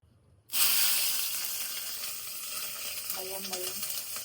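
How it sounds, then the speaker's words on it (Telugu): Green chillies dropped into hot oil burst into a sudden loud sizzle that settles into a steady, close hiss of frying for tomato chutney. "ఇప్పుడు ఆయిల్ హీట్ అయింది పచ్చిమిర్చి ఫ్రై చేసుకుందాం"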